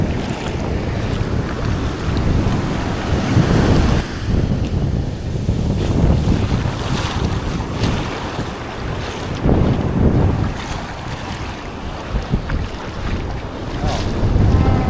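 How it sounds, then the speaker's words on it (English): Waves wash onto a sandy beach on the Irish coast in a loud, continuous roar, surging and easing every few seconds, with heavy wind buffeting the microphone throughout. "This is nice being down on the beach"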